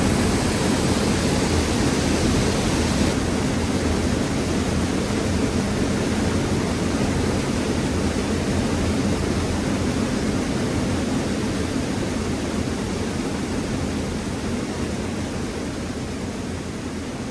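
A Yorkshire waterfall pours in a continuous, even roar of broadband rushing water, steady and fairly loud throughout, fading very slightly toward the end, with no voices.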